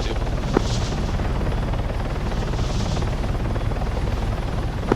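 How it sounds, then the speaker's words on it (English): Transport helicopter in the Arma video game landing on an objective, a loud steady rotor drone with continuous chop filling the whole stretch, close and dominant, with faint radio voices beneath. "you've got a transport helicopter landing on the objective"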